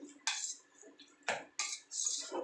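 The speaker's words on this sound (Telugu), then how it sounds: "ఇప్పుడు దీన్ని ఒకసారి బాగా కలుపుకుందాం" A spoon scrapes and clinks against a pan while keema curry is stirred, several distinct metallic strokes in quick irregular succession, close and fairly quiet with no talking.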